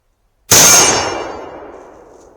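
A No.4 Mk1 Lee Enfield .303 rifle fires a single sharp shot, followed by a bright metallic clang from a struck steel plate that rings and decays slowly over about two seconds.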